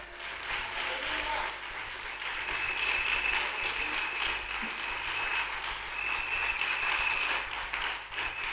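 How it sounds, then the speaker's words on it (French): An audience at a church event applauds in a sustained, moderately loud wash of clapping that swells and dips slightly, with voices faintly mixed in beneath. "Allez, acclamez pour cette femme."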